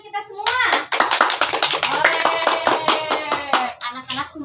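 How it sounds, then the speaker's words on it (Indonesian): Children in a classroom break into enthusiastic applause, a dense burst of many hands clapping together for several seconds before tapering off, with young voices chattering and shouting over the clapping. "Coba sekarang kita beri tepuk tangan untuk kita semua."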